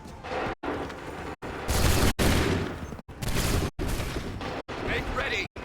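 Musket volleys in the Assassin's Creed 3 game crack out as several loud, rolling bursts of massed gunfire, each cut off by short silences, with shouted orders mixed in among the blasts.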